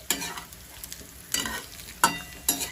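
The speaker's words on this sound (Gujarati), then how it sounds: "હવે આપણે સારી રીતના ખાંડને મિક્સ કરી દઈશું।" Spoon scrapes a pan as sugar is mixed into frying spinach muthiya, four distinct stirring strokes with a light sizzle between them, close-up and unaccompanied by voices.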